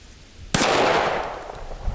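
A single sharp SCCY CPX2 Gen 3 pistol shot cracks out loud and close at an outdoor range, its report ringing and decaying over the following second with no talking.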